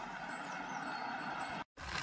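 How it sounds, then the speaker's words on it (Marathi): A forest officials' vehicle comes along a small road through forest, a steady engine rumble with a broad hiss that stays constant, then cuts out briefly near the end. "हा गाड्या पण येत राहतात, बाईक अधिकाऱ्यांची गाडी येत आहे"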